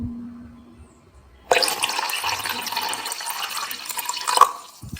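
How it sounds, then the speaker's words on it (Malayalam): Water poured into a fish bowl: after a quiet start, a sudden steady splashing pour runs for about three seconds at close range, then tapers off. "എന്നിട്ട് ഇതിനകത്തുനിന്ന് കുറച്ച് വെള്ളം എടുത്തിട്ട് നമ്മള് അതിൻ്റെ അകത്ത് ഒഴിക്കണം."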